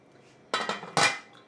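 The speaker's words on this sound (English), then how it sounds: "I'm gonna put the lid back on." A metal lid goes back onto a cooking pot on the stove, a couple of quick clattering knocks and a sharper clank as it settles, close and clear.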